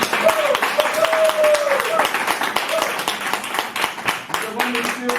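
Clapping from a gathered audience at a company presentation comes through as sharp, fairly close individual claps in an uneven rhythm, with a voice speaking over part of it.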